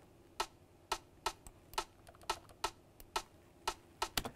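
Dry wooden percussion hits land in a steady offbeat pattern inside an electronic music production, each a short, clicky knock repeating about twice a second, fairly quiet with no other instruments standing out.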